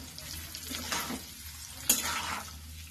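Maharashtrian alu vadi colocasia rolls shallow fry in oil, a soft close sizzle with a light scrape or stir partway through, quiet and steady without talk.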